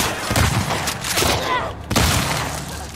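Gunfire in The Last of Us Part 2, a dense burst of loud, close shots and booms with rough impact noise, then a brief dropout and another heavy report.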